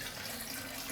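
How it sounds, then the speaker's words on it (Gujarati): Water runs from an open tap, probably filling a basin, in a soft, steady flow that is fairly faint and continuous. "હવે ચાલુ કરી દીધી ચકલી તો ચાલુ છે."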